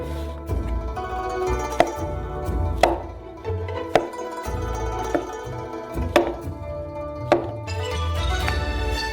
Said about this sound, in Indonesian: setiap jamur dipotong menjadi 4 bagian.